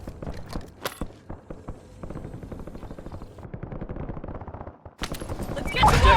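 Rapid automatic gunfire in the Warzone battle royale, loud close bursts of rattling shots in quick succession, a brief lull, then a dense burst of noisy shooting and impacts at the end.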